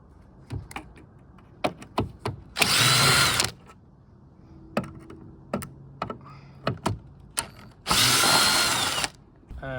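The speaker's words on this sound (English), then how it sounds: "You just undo these two torque screws here." A power driver spins out the Torx screws holding the rear light cluster of a VW Golf Mk8, two loud whirring bursts close by, separated by sharp clicks and taps of handling the tool and parts.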